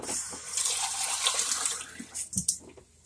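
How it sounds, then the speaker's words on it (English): Water is poured into a skillet where cream of mushroom soup is being added, making a steady splashing stream that breaks into a few spatters before stopping. "I'm going to add a little bit more water to it"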